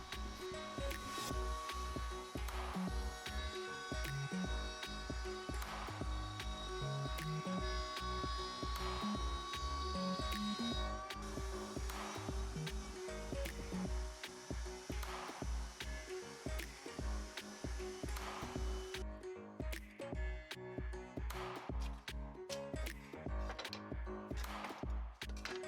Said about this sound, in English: we started up the Shapeoko to cut out the spines for the backrest